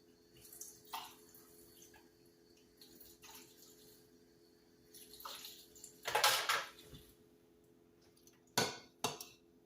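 Water poured into an empty washed pickle jar while mixing pasta salad dressing, quiet faint trickles and splashes in short bursts with small clinks of glass and utensils in a kitchen.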